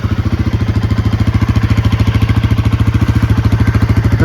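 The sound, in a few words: Royal Enfield Himalayan 450 engine warming up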